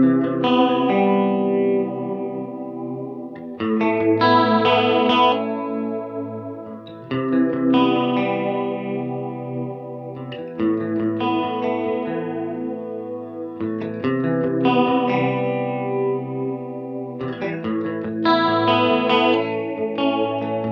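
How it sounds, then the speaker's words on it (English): A multi-tap delay pedal with one tap moving at random around the other turns sustained guitar chords into lush, wavering chorus and smeared, shifting echoes, clear and alone across repeated phrases. "a second delay tap is always randomly moving around the first, converting chorus sounds into instant polychorus ensembles, or for making complex shifting echo patterns"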